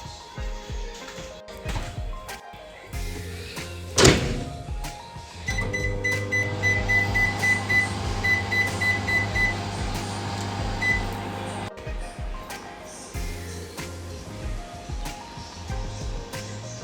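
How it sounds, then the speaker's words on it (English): A microwave oven heats fufu mixed with water, with a steady hum running from about five seconds onward after a brief clatter, plus a faint high tone; the hum cuts off near twelve seconds. "mix it with water, and then put it in the microwave and then get it done"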